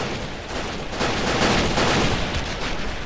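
Massed infantry rifle and machine-gun fire rattles continuously in a World War II battle in Men of War: Assault Squad 2, a dense unbroken fusillade that swells slightly midway with no voices.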